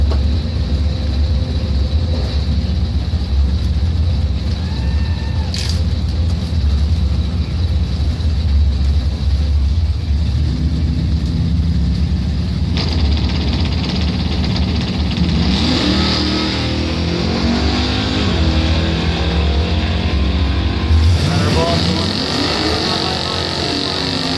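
A 1981 Oldsmobile Cutlass at a drag strip with steady loud engine rumble, gear-changing revs climbing and falling in the second half, and a brief rasping burst, crowd and track ambience running throughout.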